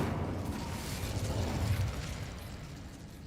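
Incendio fire spell cast in the video game Hogwarts Legacy, a dense roaring whoosh of flame with low rumble, sustained loud for a few seconds then easing slightly at the end, no talk.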